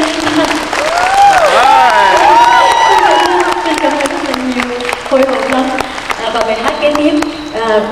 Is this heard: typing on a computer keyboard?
no